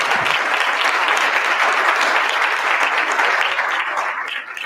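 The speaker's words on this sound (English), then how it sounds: "So we owe you a big round of applause." A crowd applauding steadily and loudly at a presidential speech at a Philadelphia water treatment center, dense clapping filling the room for several seconds before it begins to fade.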